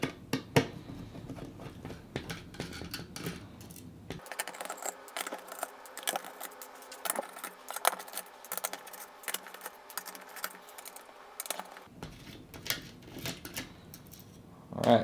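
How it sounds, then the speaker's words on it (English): Small screws come off the back plate of an EVGA GTX 1070 graphics card, producing quiet, irregular metallic clicks and taps from the screwdriver, close and faint, with a busier stretch of rapid ticking in the middle. "In order to take off the front plate, you got to take off all the screws for the back plate and a couple more."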